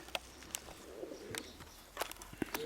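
A red-brown young pigeon and its parents walking about, with soft low coos and light footsteps scattered across a quiet loft, a few brief faint calls in between.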